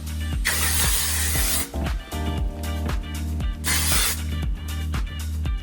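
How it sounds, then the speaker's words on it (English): L'Oreal makeup setting spray misted in two loud, close hissing bursts over a steady rhythmic background beat. "The last thing is setting spray."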